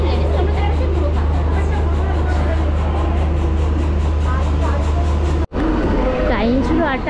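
An almost empty Uluberia local train departing Howrah rumbles with a steady low drone inside the ladies' compartment, with a brief dropout partway through and voices chattering over the noise.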